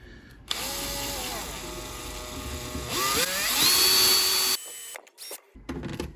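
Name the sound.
drilling small hole with drill bit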